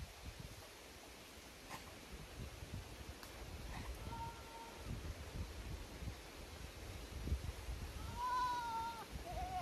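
Goats on a grassy farm bleat a few times at moderate distance, the clearest call near the end, over faint rustling outdoor background.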